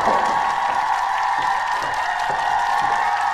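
Crowd applause sound effect cheering a LEGO projectile, a steady wash of clapping and crowd noise holding at an even level throughout.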